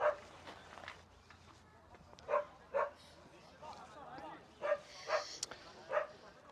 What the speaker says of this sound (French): Le chien aboie, mais ce n'est pas grave.